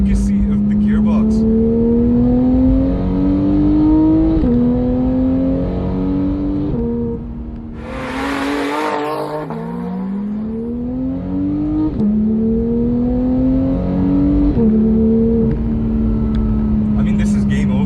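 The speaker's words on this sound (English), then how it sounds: "On the upshift, the snap, and then the way it revs up on the downshift" A Porsche 911 GT3 engine revs hard and loud, climbing repeatedly in pitch and snapping through several upshifts, then blipping up on a downshift near the middle before pulling strongly again.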